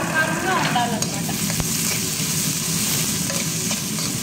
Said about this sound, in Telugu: తరిగిన ఎర్రగడ్డలు అండ్ పచ్చిమిరపకాయలు వేసేస్తాం